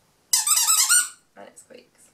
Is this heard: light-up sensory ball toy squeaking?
yes